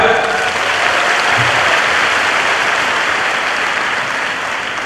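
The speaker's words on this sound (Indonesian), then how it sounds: "Tepuk tangan para pemuda." A university auditorium crowd of new students applauds together at a military commander's public lecture, a dense, steady wash of clapping that fills the whole stretch at close range with no voices on top.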